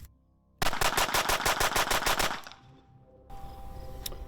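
Rapid string of about a dozen loud gunshots from a SIG 365 pistol fired in quick succession, then a brief quiet gap and faint range ambience.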